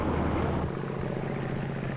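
A propeller airplane's engine drones steadily through its takeoff run, a loud, continuous low rumble with no voices over it.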